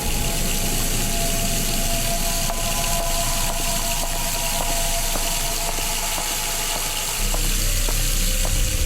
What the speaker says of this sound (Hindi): लेकिन बाथरूम का पानी ऑन हो जाता है